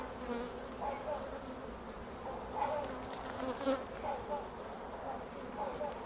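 Honey bees from a neighbouring hive on an orientation flight make a steady, fairly loud buzzing drone that swells and fades as individual bees pass close by, with no voices.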